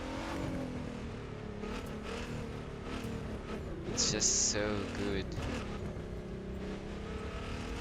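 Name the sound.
Nissan Skyline GTR car engine in video game The Crew 2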